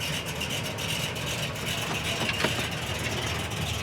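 A triple-black 1967 Buick GS 400 with dual exhaust idles in a steady, even rumble at moderate distance, with no one talking.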